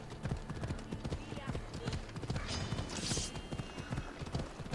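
Rapid clip-clop of horse hooves in Assassin's Creed: Odyssey in a quick rhythm, with a brief whinny-like sound partway through, steady and fairly close.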